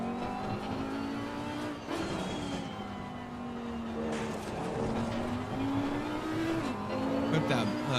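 An Audi race car laps Silverstone in Assetto Corsa Competizione, its engine droning steadily with pitch rising and falling through shifts and corners, a brief tire squeal, and a voice talking over it.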